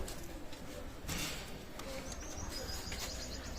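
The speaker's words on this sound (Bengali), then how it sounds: "মাশাল্লাহ, চমৎকার টেডি রানিং পেয়ার কবুতর" Pakistani teddy pigeons, a running pair, give soft coos and short chirps amid steady background noise.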